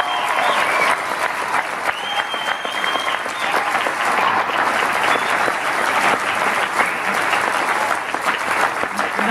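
Studio audience on a Wisconsin talk show applauds and cheers loudly and steadily throughout, a dense continuous wash of clapping with no break.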